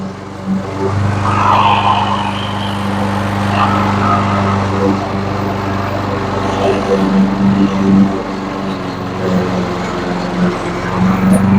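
A Troy Bilt lawn mower drones steadily and loudly up close as it cuts through very thick grass on a low setting, its engine note wavering slightly under load throughout.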